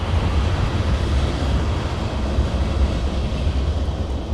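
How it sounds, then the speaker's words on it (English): A loud train passes behind, a dense, continuous low rumble with steady roaring noise that stays strong throughout. "Got this loud train going on behind me here."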